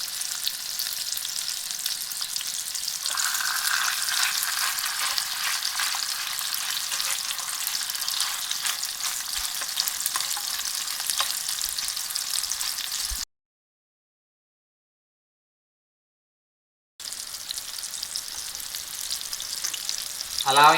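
Shrimp cakes frying in a pan with a bright, steady crackling sizzle that runs unbroken for a long stretch, cuts to silence, then resumes just as loudly.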